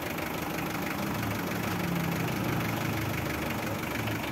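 A steady engine runs close by on a Mitsubishi L300 with a continuous groaning whine from the power steering pump while the steering wheel is turned, loud and unbroken throughout, with no talking.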